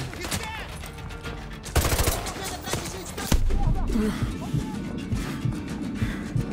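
Shotgun blasts from an enemy in Call of Duty Modern Warfare 2 Remastered ring out in sharp bursts amid other in-game gunfire and commotion, several close loud shots spread across the stretch.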